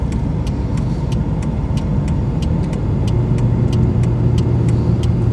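A car engine pulls steadily in high gear up a 10% grade, a continuous low drone with road rumble and faint periodic ticking, steady and close throughout.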